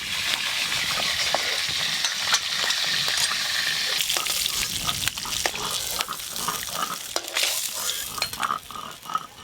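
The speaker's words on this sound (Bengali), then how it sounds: "এই দেখো কত মাছ, কত খাবে খাও, ভেজে দিচ্ছি।" Fish caught from a home pond sizzles while frying in a pan for a Bengali fish curry, a continuous bright crackle with stirring and utensil scrapes, no talking.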